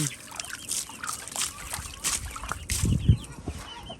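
Chickens cluck softly around a homemade 5-gallon poultry waterer, with water trickling and splashing as it overflows; the clucks are scattered and close, mixed into a busy, noisy background.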